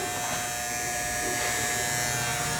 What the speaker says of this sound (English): I'm gonna go ahead and shave this off back here.